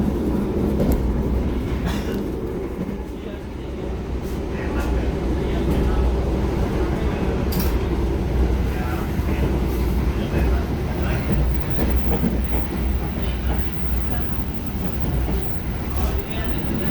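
Gajahwong passenger train on rails in Indonesia, a continuous loud low rumble and clatter of wheels under a PA announcement, heard from close by.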